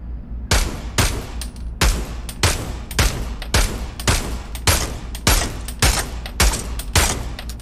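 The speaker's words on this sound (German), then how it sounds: "Ich kann auch einen Schuss machen." Rapid, loud gunshots from a VR shooter video game crack out in a steady rhythm, about a dozen sharp blasts spaced under a second apart, with no talking.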